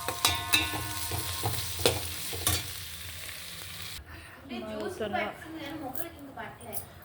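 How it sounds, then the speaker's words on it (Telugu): Tempering for upma frying in a pan, a loud crackling sizzle with sharp pops and stirring scrapes that drops to a softer hiss while a person talks over it. "ఉప్మా చేసేటప్పుడు ఇది ఉంది కదా, ఇది పోపు మంచిగా రోస్ట్గా ఉంటుంది"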